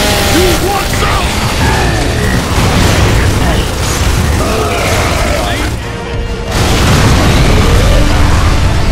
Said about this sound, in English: Concentrate fire on that fuel tank!